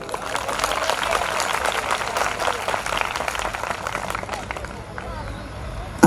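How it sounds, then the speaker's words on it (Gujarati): An audience at a live folk devotional programme in Borsad claps in a dense, steady burst of applause that gradually thins toward the end, with a voice speaking over it. "એકવાર ખાલી બાલ્કની વાળા મિત્રો જોરદાર તાળીઓ પાડે."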